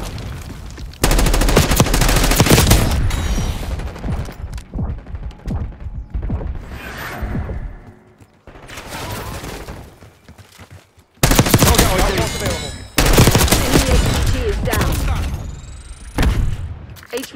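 Call of Duty Black Ops 6 gunplay on the Rewind map, loud bursts of automatic rifle fire and booming shots in long volleys with short lulls, mixed with in-game radio voices.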